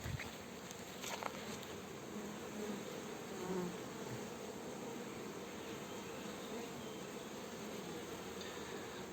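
Honeybees buzz around a hive entrance in July as they bring in pollen, forming a soft, continuous drone of many wings with occasional nearer passes and no talking.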